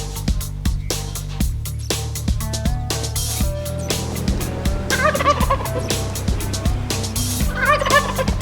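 Gould's wild turkeys gobbling repeatedly during a spring hunt in Mexico, several birds calling over and under one another in bursts, fairly loud and close amid steady low background noise.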